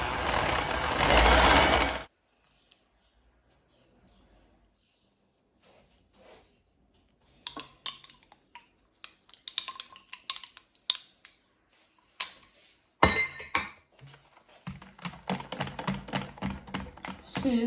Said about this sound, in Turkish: Yumurta ve şekeri beyaz olana kadar çırpalım